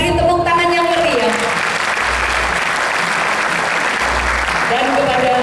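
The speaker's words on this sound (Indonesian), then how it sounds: "Sekali lagi kita beri tepuk tangan yang meriah." Enthusiastic audience applause fills a grand hotel ballroom at a church national working meeting, a steady dense wash of clapping between stretches of a speaker's voice over the PA.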